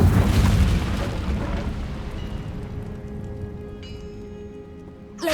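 A fire spell blast in the Hogwarts Legacy video game: a loud, booming burst of flame that rolls and slowly fades over several seconds, ending with a sharp new hit.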